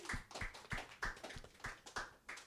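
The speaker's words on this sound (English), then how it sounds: "Hell yeah, clap for that." Sparse hand claps from a small comedy audience, about nine distinct sharp claps in an uneven rhythm, fairly faint and close, with no talking over them.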